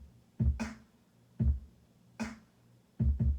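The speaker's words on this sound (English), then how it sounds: "And here is my snare," A snare drum sample in a produced beat, struck four times in a loose pattern with a kick thump under each hit, each with a short crisp snap that decays quickly, standing alone.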